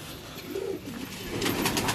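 Pigeons kept in a cage coo in low, throaty, rolling calls close by, with steady background noise from the surroundings.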